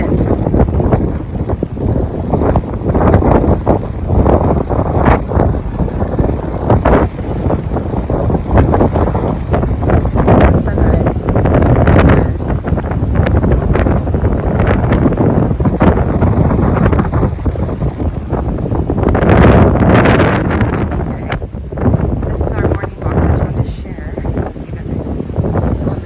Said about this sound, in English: See if you can hear me over the wind.